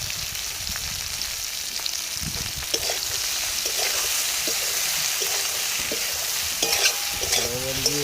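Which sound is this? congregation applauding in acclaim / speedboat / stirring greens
stirring greens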